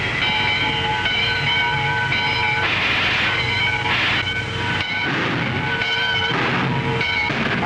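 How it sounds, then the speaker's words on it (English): A train rumbles steadily close by with a continuous roar, its whistle sounding in repeated sustained blasts throughout. "It's about time for the train to leave."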